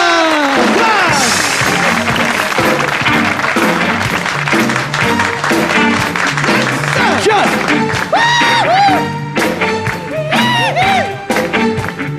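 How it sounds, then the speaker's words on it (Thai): Applause and cheering from the audience at a Thai comedy show, loud and sustained, mixed with whoops and lively crowd noise and a musical backing throughout. "ขอเสียงปรบมือให้กับไมเคิล"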